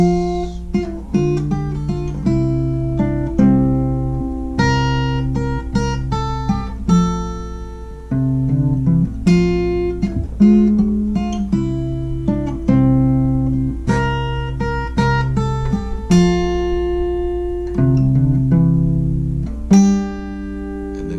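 A solo fingerpicked acoustic guitar plays a steady, bouncy tune, plucked notes ringing over a repeating bass pattern, close and clear.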